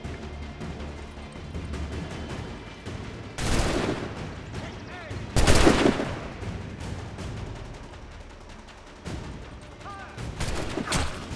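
Gunfire in the video game Assassin's Creed 3, with loud, broadband shots and bursts near and far, several heavy blasts standing out over busy battle noise.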